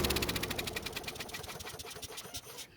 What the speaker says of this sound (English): I'll spray some starting fluid in the carburetor and make sure the engine still runs